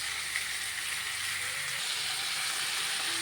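Tomatoes fry in a pan with a constant bright hiss and sizzle, and a few soft stirring sounds come through underneath, close and steady for a few seconds.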